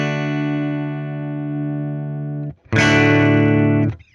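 An Orange Crush 12 guitar amp with gain near 3 holds a sustained overdriven chord that breaks up, then a second, louder and grittier chord rings after a brief gap, close and with no talk.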